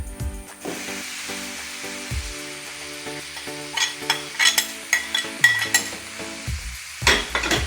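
Beetroot thoran frying in a pan is stirred with a utensil, giving a steady sizzle under repeated scraping and clinking strikes against the metal that come in uneven bursts, loudest toward the middle and end.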